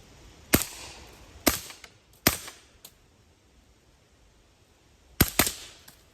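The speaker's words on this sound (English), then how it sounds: "You can definitely tell I'm shooting if you're outside on this property." Suppressed pistol-caliber shots from a CMMG Banshee carbine fired outdoors: several sharp, loud cracks, three spaced early and a quick pair near the end, each followed by short decaying echoes across open property.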